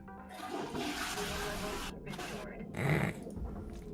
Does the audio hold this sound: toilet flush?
yes